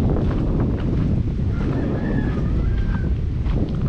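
Steady wind gusting across a seashore, a continuous low roar of microphone buffeting with possible surf beneath, loud and unbroken throughout.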